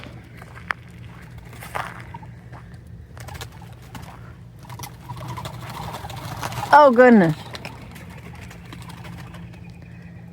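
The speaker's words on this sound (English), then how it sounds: "That's a lot of birds up there." Pigeons or doves nesting up high around a home give a single loud, close, falling call partway through, over a steady low background hum and light rustling, with a person speaking briefly.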